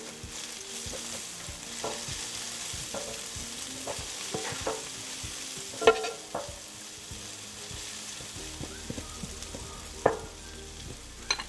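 Cumin seeds being stirred in a hot pan, with steady sizzling and repeated scraping strokes of a spoon. Sharper clinks of utensil on metal stand out now and then. The cooking sounds are close and play alone with no talking.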